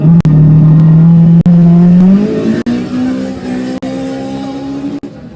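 A Toyota Corolla rally car at a forest rally sprint revs hard and loud up close, its engine note climbing as it accelerates, with brief sharp cuts between gear changes.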